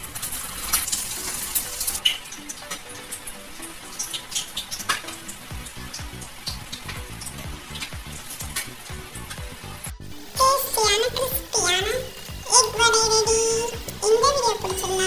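Egg vada patties go into hot oil in a pan, giving a bright crackling sizzle that rises sharply partway through after a stretch of quieter kitchen noise and talk.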